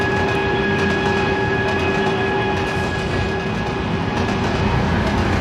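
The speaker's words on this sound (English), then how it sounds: "replace it with a much quieter engine sound" Engine hum of a Brightline bullet train in the Trainz railway simulator game, a steady, fairly quiet drone with sustained tonal whine and rolling rumble, unbroken and even.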